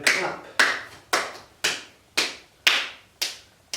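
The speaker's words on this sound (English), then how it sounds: "Tapping the back of the hand, and then clap." Seven sharp hand claps in a steady rhythm, about one every half second, close and crisp with short decays, given during a guided adult yoga session of tapping down the arm and back of the hand.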